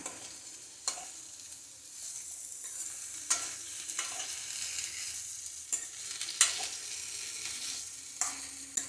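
Pumpkin sautés in oil over a medium flame, a steady soft sizzle broken by repeated scraping stirs of a spatula against the pan, close and clear with no talking.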